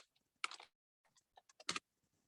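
Faint, close computer keyboard typing comes in a few short bursts of clicks separated by brief silences.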